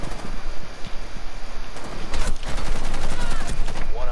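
Gunfire in a Rainbow Six Siege match, rapid bursts of close shots that build into a dense, loud volley, with clattering mechanical sounds in between.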